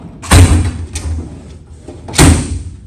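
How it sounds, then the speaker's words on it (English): Metal drawers of a Snap-on toolbox, its lock drilled out, bang shut twice: two loud, close thuds about two seconds apart, with a lighter knock in between. "So I trust it enough now to shut the drawers."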